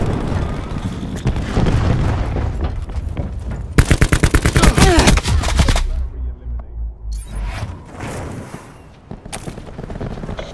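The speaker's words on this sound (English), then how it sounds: "Throwing cluster grenade." Black Ops 4 multiplayer battle: rapid automatic gunfire bursts crackle alongside a cluster grenade's booming explosions, loud and close, with chaotic combat noise filling the scene and a short silent gap.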